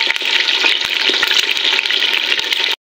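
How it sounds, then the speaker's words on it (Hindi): Chicken pieces frying in hot ghee in a pan, a loud, dense sizzle with scattered crackles and pops that runs steadily for nearly three seconds, then cuts off abruptly. "तो इसके अंदर मैं डालूंगी चिकन ताकि ये चिकन जो है अच्छे से हो जाए फ्राई"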